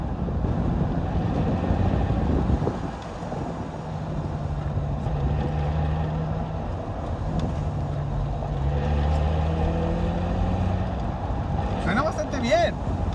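A Nissan 350Z drives along with a steady engine and transmission drone under wind noise. The pitch rises and falls slightly with gear changes, and voices are present over the drive.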